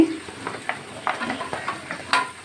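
Thin-sliced potatoes going into a pan of frying onions, a soft sizzle with scattered clinks and scrapes of a spoon against the pot, close and moderately loud, without talk.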